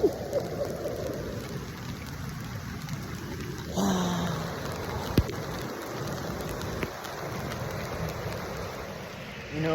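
Rain falls steadily while someone fishes on the Colorado River, a constant hissing patter with a few brief knocks and no voices.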